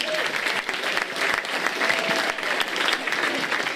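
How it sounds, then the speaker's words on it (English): Sustained round of applause from a crowd at a Limerick senior football final event, dense steady clapping throughout, loud and close with no speech over it. "give him a round of applause, please."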